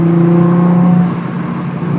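Nissan GT-R engine revving hard at high boost, a loud sustained droning rev that holds steady for about a second, then eases into a rougher, fluttering tone, with no voices.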